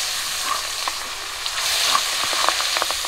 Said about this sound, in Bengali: তেল গরম হয়ে গেছে, মাছগুলো দিয়ে দেব।